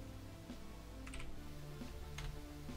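Soft, scattered key clicks of typing on a computer keyboard over a steady low hum, faint and close.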